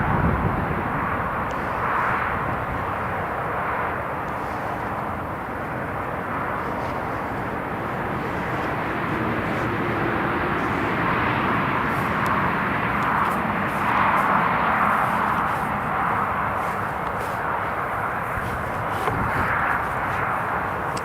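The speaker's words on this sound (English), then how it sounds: "Yes, can see it now. It's on the approach." An Italian Air Force C-27J aircraft on approach to land at Newcastle International Airport, a continuous broad engine roar at moderate distance that swells slightly over about twenty seconds with no talking.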